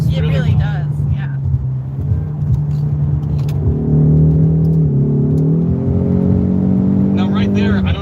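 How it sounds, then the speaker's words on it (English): A 2020 Mercedes-AMG GT 63 S engine hums from inside the cabin while driving in race mode, its drone stepping down with an upshift and rising again as it downshifts under throttle, with people talking over it. "it upshifted even though I'm in race mode, and then when I put my foot back down into it, it had to downshift again"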